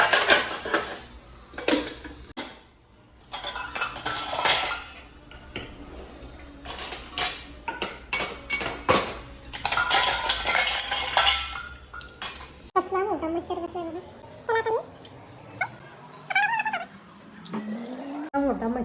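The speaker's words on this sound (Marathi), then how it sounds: "आणि आता घेतलेत भांडी लावायला." Dishes and utensils being put away in a home kitchen, with irregular metallic clinks and clatters of pots and cutlery in bursts, followed by quieter stretches with faint animal-like sounds.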